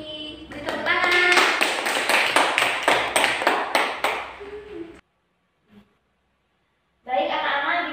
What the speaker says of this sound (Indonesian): Terima kasih. Beri tepuk tangan.